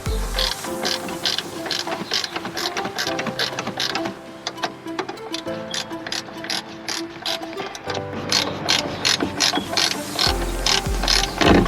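A 12mm ratchet wrench working a rear suspension nut, close rapid bursts of sharp pawl clicking in repeated strokes with short pauses between, no talking.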